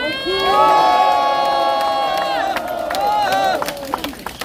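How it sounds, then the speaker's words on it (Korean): A political rally crowd cheers and shouts loudly for a lawmaker, whoops and a sustained held chant rising together, with scattered clapping and chatter as the noise fades toward the end. "우리 최승재 의원님을 위해서 큰 박수 부탁드립니다"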